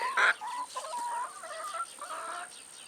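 Chickens in a flock cluck close by, a run of short repeated clucks and murmurs over quiet surroundings.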